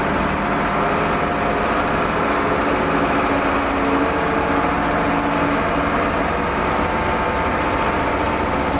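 A backhoe loader's freshly serviced engine runs continuously with a loud, steady, close rumble that holds an even tone, with no voices over it.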